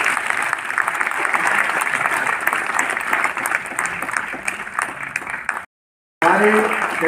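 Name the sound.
applause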